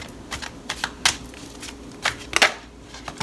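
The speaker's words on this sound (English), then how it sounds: "I'm going to just pull 2 more cards from here" Tarot cards are drawn from a deck, making a series of soft, crisp flicks and slides that come in irregular bursts, close up and fairly quiet, with no one talking.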